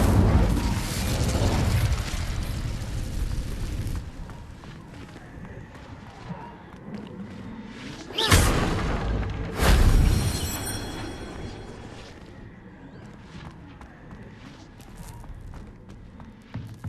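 An Incendio fire spell blasts in Hogwarts Legacy, giving sharp bursting whooshes with loud peaks around the middle, set over a bed of rumbling game ambience and movement noise.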